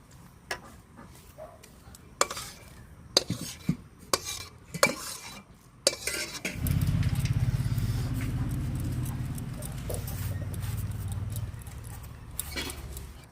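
Ripe jackfruit pulp mixture is poured onto an oiled plate: several light utensil clinks and taps come first, then a steady, thick, low wet pour and shuffling lasts a few seconds before fading back to faint clatter.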